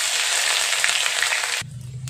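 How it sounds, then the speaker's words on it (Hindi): Loud, bright sizzling of crushed ginger frying in hot oil with cumin fills most of the clip, then drops away abruptly to a quieter background hum. "इसमें मैं डालूंगी क्रश की हुई अदरक"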